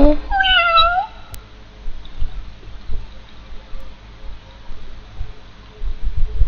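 A Minecraft cat lets out one clear, rising-then-falling meow right at the start, followed by quiet low game ambience with faint bumps and no further cries.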